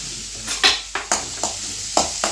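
Onions sauté in coconut oil in a pan, a soft steady sizzle broken by about seven sharp scrapes and clinks of a spoon stirring against the metal.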